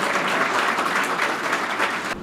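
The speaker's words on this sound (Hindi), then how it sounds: "मैं चाहता हूं एक बार जोरदार तालियों के साथ" Sustained, dense applause from an audience at a speech event, loud and steady throughout before cutting off abruptly near the end.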